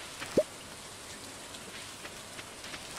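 Steady rainfall in the video game Stardew Valley, a continuous soft hiss of drops with a couple of brief low thumps, heard alone without talk.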